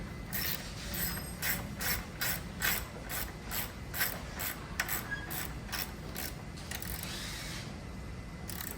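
A 1/2-inch socket ratchet tightens a nut while assembling an E Ride Pro SS scooter, giving a series of crisp, close-up pawl clicks in rhythmic bursts of strokes, loud and clear with no voices.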